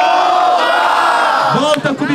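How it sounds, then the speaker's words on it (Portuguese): A loud crowd at a Brazilian freestyle rap battle roars and shouts together, a sustained cheer with whoops and voices rising near the end. "Mais palmas para o Champa, certo?"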